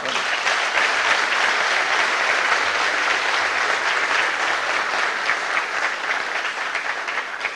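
A hall audience at a Marathi motivational talk breaks into strong, sustained applause in honour of ICICI Bank executives, dense rapid clapping that holds steady before easing slightly at the end.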